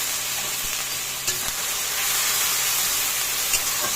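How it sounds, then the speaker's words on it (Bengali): Spices and tomato paste fry in a pan, giving a steady bright sizzle and hiss, with a couple of faint clicks of stirring. "গ্যাসটা একদম মিডিয়ামে করে দিয়েই মশলাগুলো ভাজতে হবে"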